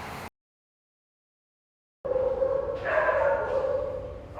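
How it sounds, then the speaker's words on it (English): After a brief silence, several dogs at the Big Dog Ranch Rescue shelter bark and yip together, a steady chorus of overlapping barks at moderate distance. "That is the sound of the resident dogs of the Big Dog Ranch Rescue"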